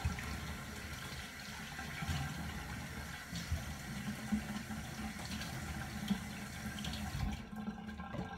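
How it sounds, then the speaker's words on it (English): Running water from a tap splashing into a small bowl, a steady low trickle and patter with light irregular splashes, fairly quiet, then easing off near the end. "I'm just gonna actually run the tap."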